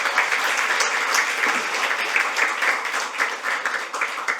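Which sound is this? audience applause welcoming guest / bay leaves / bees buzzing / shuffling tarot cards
audience applause welcoming guest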